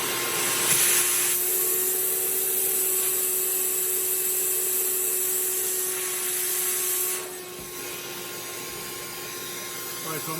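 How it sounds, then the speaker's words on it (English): A DIY extractor vacuum cleaner whines steadily and loudly, its airflow shifting as it draws up water, with a brief change in tone near the end. "this vacuum cleaner is so strong, I don't know if you can tell, it's actually sucking up some of the water"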